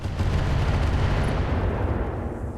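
Artemis 4 missiles fire from a mech in the RogueTech game, a dense continuous roar of launches and blasts that stays loud and sustained throughout, with no voices over it.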